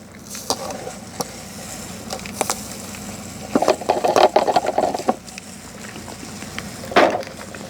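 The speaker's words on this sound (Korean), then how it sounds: "그래서 여기에 설탕을 1kg을 넣도록 하겠습니다." One kilogram of sugar is poured into a Pocari Sweat bottle, producing a granular patter and rattle that swells for a second or so mid-clip over a steady background hiss, with a few scattered knocks around it.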